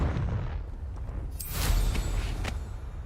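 Confringo blasting spell explosion in Hogwarts Legacy, a burst of fiery blast noise swelling midway over a low rumbling game ambience, followed by a second sharp crack, fairly close and moderately loud.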